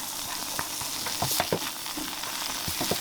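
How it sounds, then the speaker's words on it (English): Butter sizzles steadily in a hot pan, a dense crackling hiss with scattered pops and soft stirring clicks. "get some butter sizzling in there"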